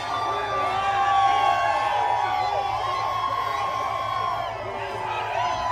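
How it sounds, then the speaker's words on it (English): A large crowd at a New Hampshire primary rally cheers and whoops continuously, a dense, loud roar of voices with shouts rising above it. "Donald Trump greeting the crowds here as the first in the nation primary gets underway in the great state of New Hampshire."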